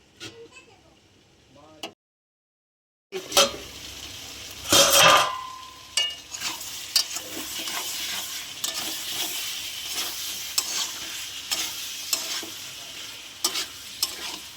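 Elephant foot yam and potatoes stir-fry in a pan with a loud, continuous sizzle and repeated spatula scrapes and clatters, following a brief quiet gap near the start, with talk occasionally audible.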